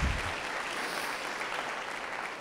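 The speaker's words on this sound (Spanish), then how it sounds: "Les pido el favor que lo aplaudamos cuando hable" An audience at a hospitals and clinics congress opening applauds steadily, a dense wash of many hands clapping at even loudness throughout.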